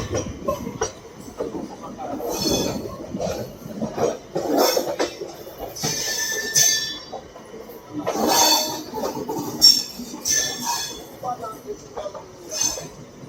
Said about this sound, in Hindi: हम यहाँ पे अपनी IRCTC लखनऊ तेजस को भी यहाँ से ओवरटेक कर रहे हैं।